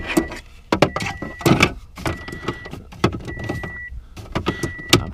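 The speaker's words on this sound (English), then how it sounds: "I'm sure you guys are sick of that noise of the key in the ignition" A Toyota Tundra's key-in-ignition warning chime repeats in steady tone pulses while nearby clunks and knocks of cabin filter work sound over it, close and fairly loud.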